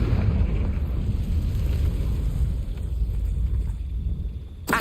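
Fiery blasting-spell explosion from a Hogwarts Legacy game, a dense, sustained low rumbling roar that fills the whole stretch and flares briefly again at the end.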